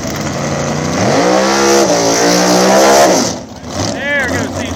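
A small-tire drag race car heating its tires at a nitrous race in Ohio, the engine roaring loud and close with rising revs over several seconds, then easing off, with a commentator talking over it.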